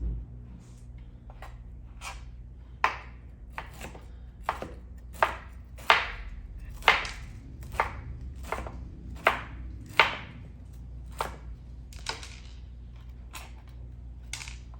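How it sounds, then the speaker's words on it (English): A kitchen knife chopping broccoli into small florets on a board, a dozen or so sharp, crisp cuts in an uneven rhythm, close and clear with no talking. "You're going to cut your broccoli. You're just going to give it a nice chop."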